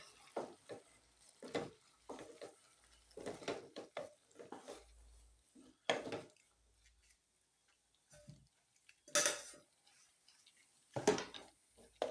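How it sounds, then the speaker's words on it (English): A mixture of githeri, beans and maize, is stirred in a cooking pot with a quiet, irregular scraping and a faint sizzle, in short bursts broken by pauses. "We are going to add my GITHERI, yeah. Then we mix it."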